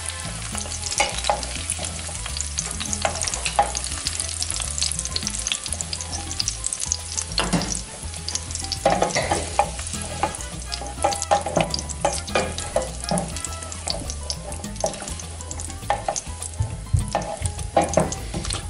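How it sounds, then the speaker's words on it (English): Onion slices fry in hot oil for an eggplant Parmesan, a steady loud sizzle broken by repeated stirring scrapes and clinks, with no voices. "once they cook a little bit in the oil and flavor the oil, I'm going to take everything out"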